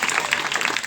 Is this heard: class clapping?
yes